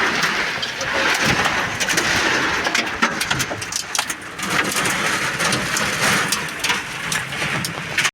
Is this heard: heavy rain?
yes